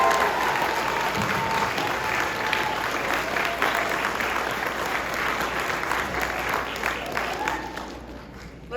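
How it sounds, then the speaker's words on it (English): An audience at a sixth-grade promotion ceremony applauds a class, with dense, steady clapping from a large crowd that holds for several seconds before thinning out near the end. "Let's have a round of applause for Miss Kleina's class."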